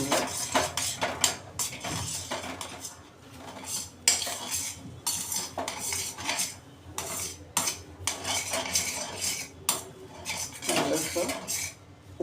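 A spoon scrapes and knocks against a pot while millet and sago flour are stirred into water to make dough, giving repeated close metallic clinks and scrapes in an uneven rhythm.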